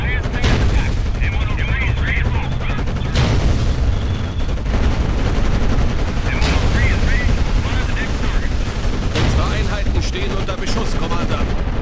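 Combat in Codename Panzers Cold War: bursts of gunfire and booms keep going throughout, loud and dense against a steady rumbling battle bed, with a voice speaking intermittently over the shooting.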